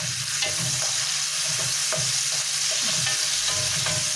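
Minced garlic fries in a pan with a steady, close sizzle, broken now and then by the soft scrape of stirring; no one speaks.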